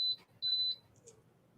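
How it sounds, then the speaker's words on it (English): An Arizer XQ2 vaporizer signals it has reached temperature with two short, sharp electronic beeps, clear and close, followed by faint background sound. "that was the beeping of up to temp"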